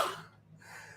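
One short, close sneeze-like burst of breath that fades out, followed by a sharp intake at the end, alone in a quiet room.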